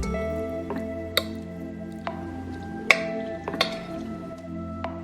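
Raw salmon sashimi being mixed with spicy sauce in a bowl, quiet wet squishing with scattered sharp clicks and taps of the utensil against the bowl, steady and close.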